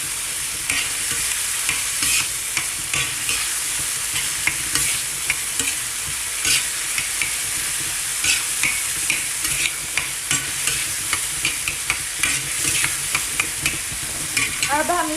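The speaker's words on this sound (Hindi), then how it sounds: "और इनको भी अच्छी तरह भून लेंगे।" Fresh green and red chillies frying with beef on a tawa, a steady loud sizzle with frequent scraping stirs of a spatula throughout, close and without talk.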